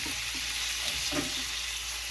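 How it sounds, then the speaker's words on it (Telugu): Cut jackfruit seeds and brinjal pieces frying in a pan, a soft, steady sizzle with a few muffled stirring knocks, low in level and with no talking. "కట్ చేసుకున్న పనస గింజలు వేయించాలి. వంకాయ ముక్కలు వేసి"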